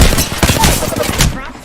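A short flurry of video game gunfire, quick rattling shots close and loud for under two seconds.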